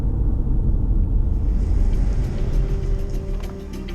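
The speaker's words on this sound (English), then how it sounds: "the roof rack makes so much noise I can't hear the tires anyway" A MINI Countryman F60 LCI on all-terrain tires with a roof rack, heard driving from inside: a steady, loud low rumble of road and wind noise, constant throughout with no talking.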